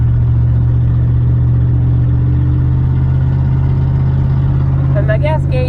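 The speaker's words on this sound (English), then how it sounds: "I didn't see any obvious culprits of why the exhaust was loud." A deep, steady 1999 Chevy Silverado pickup engine with an unusually loud exhaust idles loudly throughout with a rough low rumble, and a voice briefly cuts in near the end.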